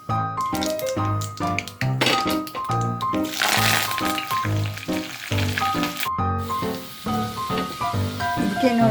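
Ginger, green chillies and curry leaves hit hot oil in a pan for crispy poha, producing a loud, continuous sizzle with crackling pops that runs through the whole stretch.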